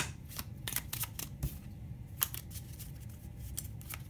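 Tarot cards are shuffled by hand for a reading, soft close riffling and flicking in quick irregular bursts with a few sharper snaps, faint and quiet.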